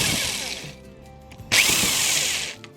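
A power drill whines as it bores into the end grain of pine wood in two bursts, with a brief lull between them, close and fairly loud.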